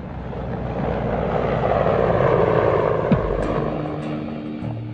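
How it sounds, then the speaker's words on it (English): A Hind twin-turbine military helicopter, powered by 2200 horsepower engines, gives a steady, loud turbine and rotor roar that holds for several seconds, swelling slightly in the middle. "The Hind is powered by twin-turbine 2200 horsepower engines."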